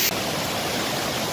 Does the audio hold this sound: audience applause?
no